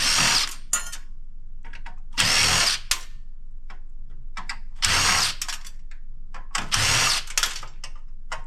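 Cordless power drill backing screws out of scrap material, four distinct bursts of whirring spaced a couple of seconds apart, with small clicks and handling knocks between them.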